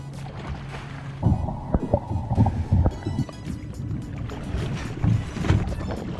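A rowboat or canoe being paddled on water along the Maine to New Hampshire coast, with irregular splashing strokes and knocks close by over a steady background of wind and water.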